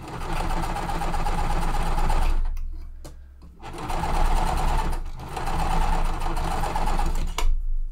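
A sewing machine stitches cotton quilt pieces in loud, rapid bursts, stopping twice briefly with small clicks between runs, close up and without talk.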